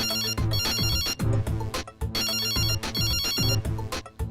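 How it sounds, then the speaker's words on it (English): A phone ringtone in the animated film Killer Bean Forever, a loud repeating electronic melody playing in two identical cycles with short gaps, heard alone without talk. "someone's phone is ringing now"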